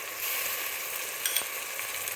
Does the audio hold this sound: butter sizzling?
yes